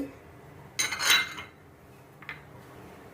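Fenugreek, pepper, coriander seed, chana dal, cumin, urad dal and dried red chillies roasting together in a pan, heard as a couple of clinks and scrapes of a metal spoon against the pan amid quiet.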